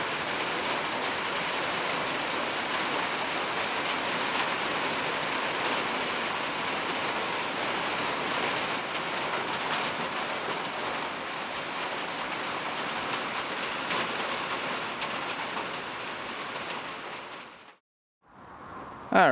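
Steady rain falls outside during a break from setting up a bush hog on a Kubota B2601 tractor, a dense even hiss holding for nearly the whole stretch before cutting off sharply near the end.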